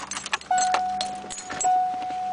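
Oddly shaped keys for a 1987 Ford Escort jangle close by, with a quick burst of metallic clinks, then a few more rattles over a steady faint tone.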